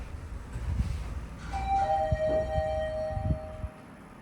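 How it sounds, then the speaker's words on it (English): A Shanghai Mitsubishi traction service elevator in a quiet mall basement sounds a single clear electronic chime tone that holds steadily for about two seconds over low background rumble. "Got a good, clear sound of that chime."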